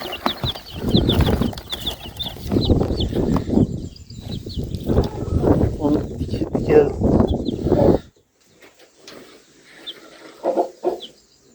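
Farmyard hen with chicks sheltering under her wing, clucking in bursts over rustling and nearby movement on a sunny, slightly windy day, with people talking close by for most of the stretch before it quiets.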